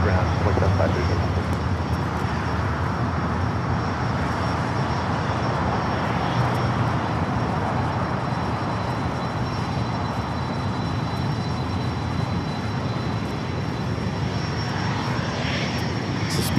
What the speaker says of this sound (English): Looks like a FedEx 767 touching down here on the south side